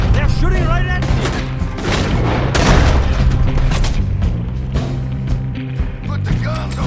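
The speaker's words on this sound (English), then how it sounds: "They're shooting right at me!" Gunfire from a Red Dead Redemption 2 shootout, repeated booming shots and impacts over a dense mix of game music and effects, with voices talking throughout.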